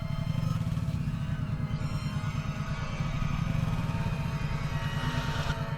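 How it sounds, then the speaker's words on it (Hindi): A motorbike engine runs in a continuous low, throbbing rumble on a foggy road toward a village, steady and moderately quiet throughout, with no voices. "इस बार एक ही किक में इंजन स्टार्ट हो गया"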